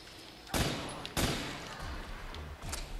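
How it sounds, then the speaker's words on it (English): Gunfire in the Nacht der Untoten zombies mode of a video game: two sharp, loud shots about half a second apart, each with a short echoing tail, then lighter follow-up bangs. "I think they changed the sound that this gun makes."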